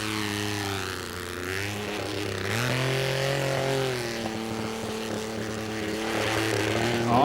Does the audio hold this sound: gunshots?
no